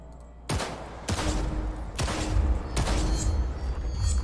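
Target practice in Cyberpunk 2077, four loud gunshots about half a second to a second apart, each with a booming low tail over a steady background rumble.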